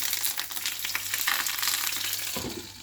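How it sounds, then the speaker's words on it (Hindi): Banana-leaf packets of fish paturi sizzle in hot mustard oil in a pan, a loud, close, continuous frying hiss with a brief shuffle as packets are placed, no talking. "पैन में फिर से मैं लूंगी थोड़ा सा मस्टर्ड ऑयल। अब इसके अंदर बाकी के पैकेट को रख देंगे।"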